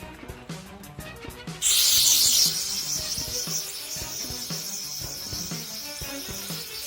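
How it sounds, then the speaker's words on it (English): Electrical cleaner sprays from an aerosol can onto engine wiring in a sharp, loud hiss lasting about a second, then a softer hiss continues over a steady rhythmic ticking from the engine bay. "Let's blast all the dirt out of here. I'm going to use electrical cleaner for this."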